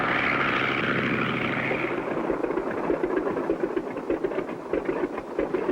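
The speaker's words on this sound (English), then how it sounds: "We'll circle in for a landing" A propeller airplane circling in to land over a farm runway, its steady engine drone loud and close at first, then settling into a rougher, pulsing throb as it descends.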